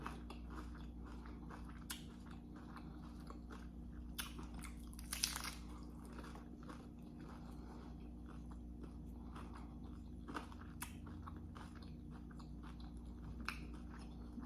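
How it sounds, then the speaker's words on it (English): Crunchy tacos being chewed close to the mic, soft repeated crunches and bites with a sharper crackle midway, over a low steady hum and no talk. "Let me really chew my food."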